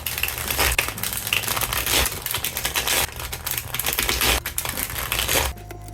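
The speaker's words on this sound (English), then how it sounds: "the dealer takes the cards, shuffles them, and deals 7 to each player" Uno cards being shuffled and dealt on a table, a dense close rustle of flicking and sliding cards with short breaks, then a quieter steady hum at the end.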